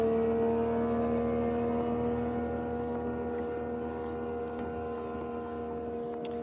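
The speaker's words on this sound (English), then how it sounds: "There are some boats out here, as you can hear." Motorboats drone on a river or creek while someone is out fishing, a steady low engine hum with tonal whine that slowly fades as the boats pass at a moderate distance.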